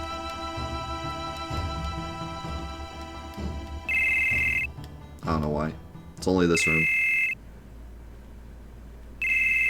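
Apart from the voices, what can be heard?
telephone ringing in Final Fantasy VII video game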